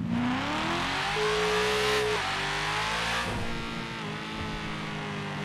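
Car engine in GTA roleplay driving steadily and revving, its pitch climbing and shifting through gears over a constant loud drone, alone without talk.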